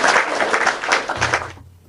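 Applause and clapping from an audience at a Haitian gathering, a steady dense patter for most of the moment before fading out near the end.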